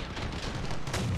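Vehicle-mounted guns fire in the Crossout vehicle combat game, a dense, continuous roar of booming gunfire over a brief stretch with no voices.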